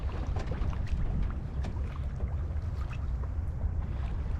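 An Allied Princess 36 sailboat sails slowly against the tide off Mount Desert Island, Maine, with steady water rush and wind noise buffeting the microphone in a constant low roar.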